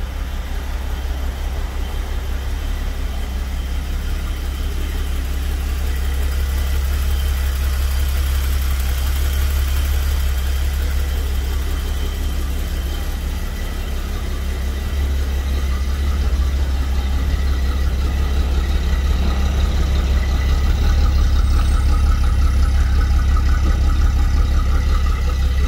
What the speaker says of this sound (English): As you can see, the car starts